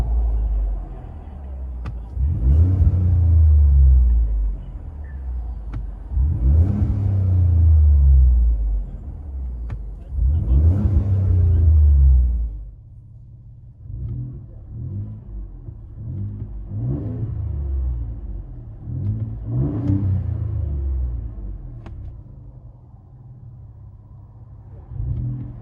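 A Ford F-150 3.5L EcoBoost twin-turbo V6's exhaust, muffler deleted with resonator kept, drones from inside the cab, swelling in three strong revving pulls and then settling into lower, uneven rumbles and lighter throttle blips.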